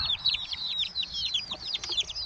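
Several chickens cluck and chirp close by in quick, busy bursts, with faint background noise.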